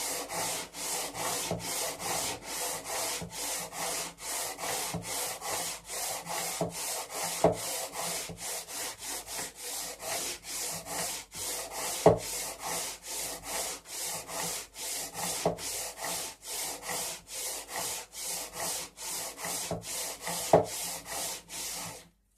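A wooden guitar fretboard ground by hand, long steady rhythmic strokes repeating about twice a second, close and even throughout with no talking.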